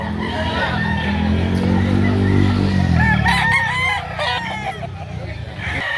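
Rooster crowing at a busy Saturday chicken market, a loud close drawn-out crow with other fowl calling and clucking around it, while people talk in the background.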